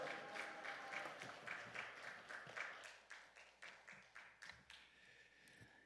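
Applause in a church service welcoming an elderly senior pastor before a Christmas sermon: a crowd clapping in a steady rhythm that thins out over six seconds into separate claps.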